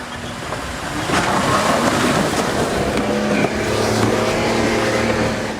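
An off-road vehicle's engine revs hard in second gear as it climbs a trail obstacle, a loud, sustained roar that swells after the first second and holds steady, with no voices.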